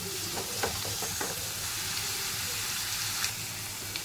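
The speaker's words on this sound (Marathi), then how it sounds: "आपल्याला कांदा आता गोल्डन ब्राऊन असा करून घ्यायचा आहे." Finely chopped onion frying in a pan toward golden brown, a steady close sizzle with a few scraping stirs early on, continuous and even.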